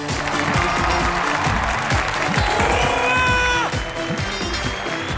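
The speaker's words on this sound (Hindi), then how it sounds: "ठोको ताली," Studio audience at a Hindi comedy talk show bursting into sustained, loud applause, a dense, steady wall of clapping with cheers mixed in and a bright tonal sting briefly sounding through it.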